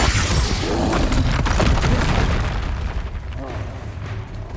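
A Bombarda spell blast in Hogwarts Legacy lands as a heavy boom, followed by rumbling, crackling explosive bursts that gradually thin out and fade.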